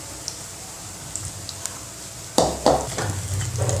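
Brinjal pakoda fry in hot oil, a soft steady sizzle that suddenly swells into louder crackling and bubbling as more battered eggplant pieces drop in, close with no voices.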